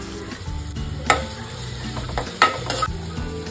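Half-boiled mushrooms fry in a hot pan with a steady close sizzle, broken by a few sharp scraping stirs and utensil clinks.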